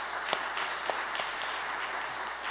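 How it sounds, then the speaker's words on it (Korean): A church congregation claps steadily in welcome for a visiting pastor, a dense, even patter of many hands with a few sharper claps standing out and no talking. "목사님께 환영하면서 박수로 드리겠습니다"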